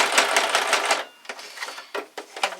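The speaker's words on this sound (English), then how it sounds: "Set my other hearts on there where I want them and finish sewing down." Sewing machine stitching paper hearts onto a handmade Valentine's tag, a loud close rapid needle chatter running steadily, then stopping and restarting in several shorter bursts.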